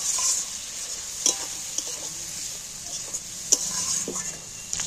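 Fish coated in masala sautés in a pan with soy sauce and water, a soft steady sizzle broken by occasional clinks and scrapes of a spatula against the pan. No one speaks.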